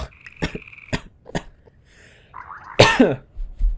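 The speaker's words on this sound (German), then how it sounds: "Muss ich mal kurz husten bei 2 Minuten 45." A person recording a German Minecraft Let's Play coughs sharply a few times in short bursts close to the microphone, with a louder throaty cough near the end and no talk.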